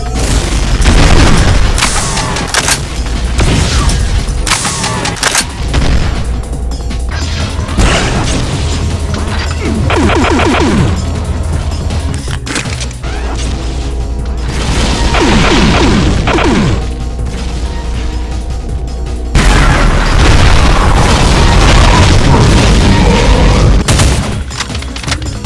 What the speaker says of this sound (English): a spread of Demon Tech BFG shots